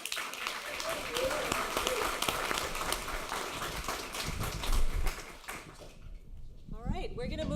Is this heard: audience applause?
yes